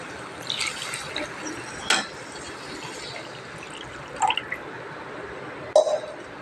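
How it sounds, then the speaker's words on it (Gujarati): Water is poured into urad dal frying in oil with cooked spices, giving a steady close sizzling wash broken by a few sharp splashy hits. "આપણે હવે એમાં મસાલા પાકી ગયા છે તો પાણી નાખી દઈએ"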